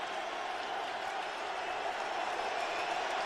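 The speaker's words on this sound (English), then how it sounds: "And the crowd on its feet getting loud." A stadium crowd at an NFL game, 49ers at Colts, roars steadily in a broad, continuous wash of cheering and noise.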